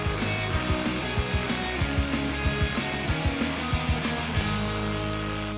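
Electric horse clippers run with a steady motor whir and a rapid, regular clicking rhythm, close and fairly loud, with no talking.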